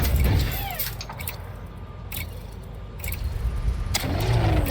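A car engine in the Elite Dangerous vehicle hangar, a video game, runs steadily at close range, loud and continuous, with the pitch swelling and sweeping as it revs, plus a few sharp mechanical clunks along the way.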